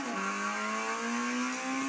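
A race car engine drones at steady high revs in Gran Turismo 6 during a lap of the Nürburgring, a loud sustained tone with only a slight shift in pitch.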